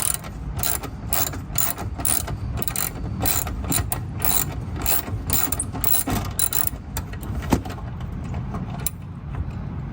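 A hand ratchet clicks quickly and steadily as it loosens a 10 mm bolt on a 1999-2000 Honda Civic headlight assembly, with close, crisp pawl clicks in continuous rapid strokes and a brief pause near the end.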